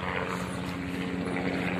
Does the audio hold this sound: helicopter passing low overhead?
yes